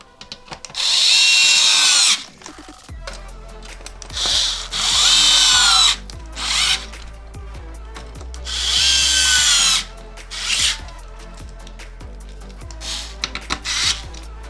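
A power screwdriver drives screws into an Xbox One X main board in four whining bursts of about two seconds each, separated by quiet pauses with small clicks and handling noises.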